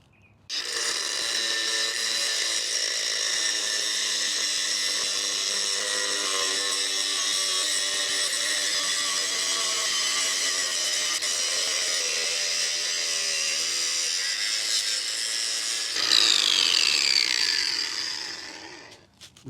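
A power tool grinds continuously through a steel ebike lock chain, a loud, close, sustained high-pitched whine with shifting tone that rises sharply near the end before cutting off.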